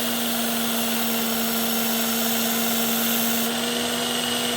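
Work Sharp electric knife sharpener running at speed with a high-grit belt, a steady loud motor whine with a constant hum and broadband grinding hiss that holds throughout, brightening slightly near the end.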